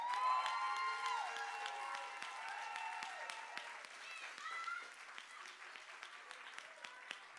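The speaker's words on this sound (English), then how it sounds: "Can we give a round of applause to our media team?" Applause fills a church service, a crowd clapping steadily and loudly at first, then thinning into scattered claps, with voices and a cheer mixed in.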